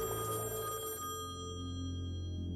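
A telephone rings repeatedly with no one answering, a steady electronic ring that continues alone and fairly clear, with no talk over it.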